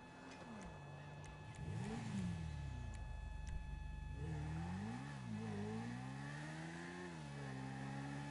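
A motorcycle engine in the game GTA revs up and down repeatedly, its pitch rising and falling in a continuous drone that swells louder midway and stays close, with no talk.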